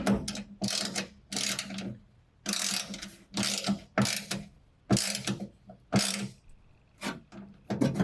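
Ratchet wrench tightening window regulator bolts inside the door of a 1967 Mustang, loud close bursts of rapid clicking strokes, about ten in a row separated by short pauses.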